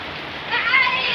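Rain pours steadily, a soft broadband hiss that swells slightly louder partway through, close by, with no clear voices over it.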